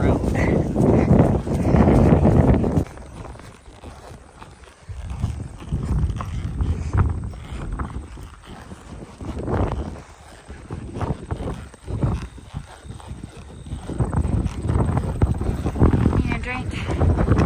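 A ridden horse heading out across a farm to check paddocks and fence lines gives out hoof clip-clops under ongoing talk, with wind buffeting the microphone.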